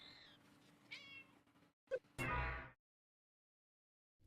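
A pet cat gives two short meows at close range, followed by a burst of rustling noise and then quiet.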